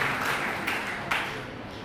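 Applause from the audience at a Hindi poetry event, honoring the women contestants: a dense wash of clapping from many hands, fairly loud and steady, with small swells, heard alone with no talking.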